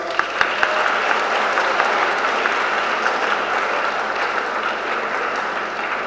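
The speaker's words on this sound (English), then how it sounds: "Give them a big applause." An audience at a university campus lecture series gives the speakers loud, continuous applause. A few sharper individual claps stand out from the steady wash of the crowd.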